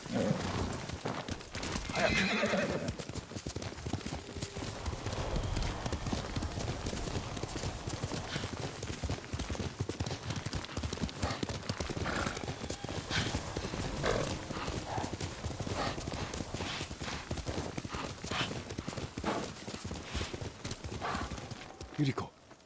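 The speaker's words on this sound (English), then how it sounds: "Horse!" Steady clip-clop of horse hooves in the video game Ghost of Tsushima runs throughout, with a horse neighing early on and voices speaking over the hoofbeats.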